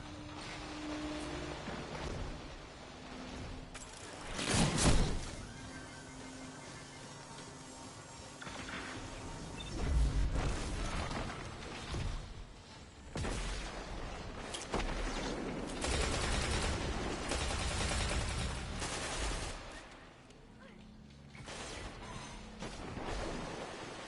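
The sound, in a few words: gunshots from the video game Destiny 2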